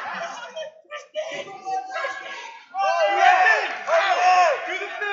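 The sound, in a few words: student section crowd cheering at wrestling match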